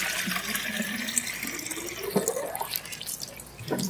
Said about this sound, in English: Obviously, the next thing you do is you add water.